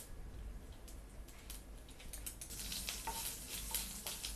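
Steady sizzling and crackling of chana dal frying in hot oil with mustard seeds, with occasional stirring clicks, growing slightly louder toward the end.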